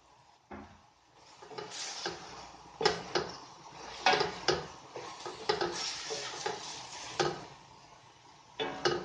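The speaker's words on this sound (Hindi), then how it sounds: "इसमें जो ये ऑमलेट हमने तैयार करके रखा था वो भी इसमें मिक्स कर देना है।" Omelette being stirred into a pan of stir-fried vegetables and chicken for chicken fried rice, scattered scraping and clinking of a utensil against the pan at uneven intervals, quiet with near silence between strokes.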